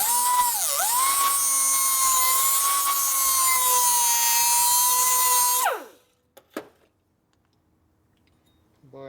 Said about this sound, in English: So you just come here with the die grinder.